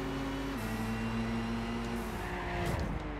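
A tuned Mazda RX-7 racing at night on Apricot Hill Raceway in Gran Turismo 6, its engine a loud, continuous high-revving buzz that shifts pitch as it changes gear, close and steady throughout.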